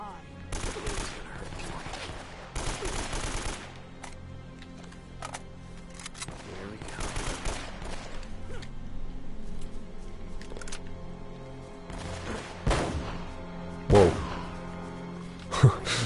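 Pistol gunfire in the action game Uncharted, scattered shots and impacts over a busy game soundtrack, with a couple of sharper bangs near the end, moderately loud.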